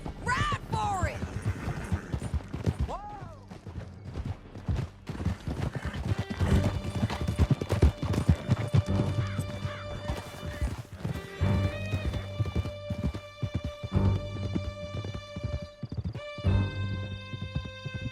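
Horses galloping in Red Dead Redemption 2: rapid, loud hoofbeats pound continuously with a neighing whinny near the start, over swelling orchestral music and occasional crashes.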